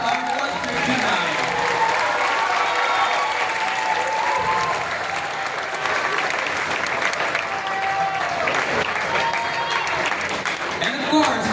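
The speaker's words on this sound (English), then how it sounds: "Let's give one final round of applause to everyone who's been a part of our concert tonight." Big applause at the close of a concert: dense clapping from a large audience with cheering and shouting voices mixed in, sustained throughout.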